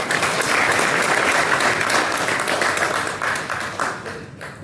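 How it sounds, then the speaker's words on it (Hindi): Sustained audience applause fills a Bihar Pratibha Samman award ceremony honouring selected civil services candidates, loud and dense throughout before thinning slightly near the end. "तालियां आप लोग बजाते रहिए, हमारे फोटोग्राफरों का साथ"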